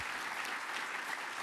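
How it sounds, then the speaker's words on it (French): Conference audience applauding at a French colloquium on aerial and space diplomacy, a steady, moderately faint patter of many hands clapping throughout. "allez, vous demandez d'applaudir encore une fois"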